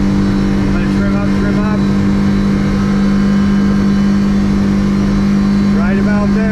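A 2024 Hewescraft 75th anniversary edition boat with a Yamaha F115 V Max outboard runs at speed, its steady loud engine drone and hull-on-water rush continuous throughout, with a voice talking over it.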